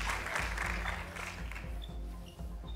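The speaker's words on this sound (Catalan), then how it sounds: "Jo demano un aplaudiment per a ella." Applause from a studio audience for Virgínia on a Catalan singing-duel show, a broad steady clatter of clapping throughout, moderately loud with no talking over it.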